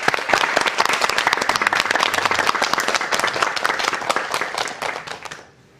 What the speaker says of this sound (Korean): 여러분 박수로 청해 듣겠습니다